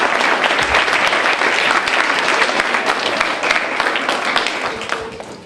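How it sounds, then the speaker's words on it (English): An audience at a school DARE event applauds steadily, a dense close wash of clapping that fades slightly toward the end. "Let's give them a round of applause."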